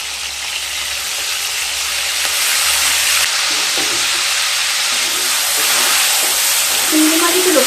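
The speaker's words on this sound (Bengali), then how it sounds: "এবার সর্ষের তেল দিয়ে দেব। তেলটা গরম হয়ে গেলে চিংড়ি মাছগুলোকে ভেজে নেব।" Prawns fry in hot mustard oil, a loud, dense hiss of sizzling that swells after the first few seconds and holds steady, with a few light stirring scrapes near the end and no talking.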